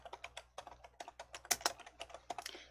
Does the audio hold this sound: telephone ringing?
no